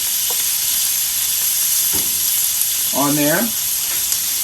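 Butter and meat frying together on a hot outdoor griddle, giving a steady broadband sizzle with someone speaking briefly over it.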